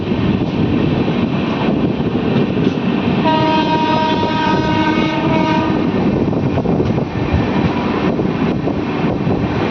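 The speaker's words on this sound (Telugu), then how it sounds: "బెల్లంపల్లిలో ట్రైన్ నోటీస్ చేశాను, అక్కడ వెళ్తుంది చూసారు," The Kerala Express thunders loudly past Bellampalli railway station, a dense rolling rumble of wagons with a sustained horn blast in the middle.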